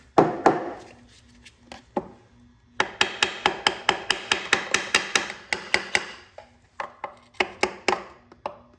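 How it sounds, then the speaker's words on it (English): A hammer taps a Datsun 240Z transmission part to work it loose. A few spaced knocks come first, then a quick, even run of sharp, close strikes, a short pause, and a final cluster of hits. "We're just gonna go tap it a little bit."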